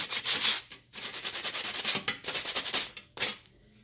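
Scratchy, rhythmic rubbing strokes of a sanding block on painted tin tile, close by, in quick back-and-forth bursts with brief pauses.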